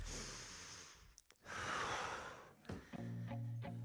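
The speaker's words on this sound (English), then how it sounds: "Try to think about slowing the breathing, maybe breathing in the nose," Slow, deliberate breaths during a full-body mobility workout: a long airy inhale drawn through the nose, then a soft exhale out through the mouth, close and quiet, with light rustling of movement and no talking.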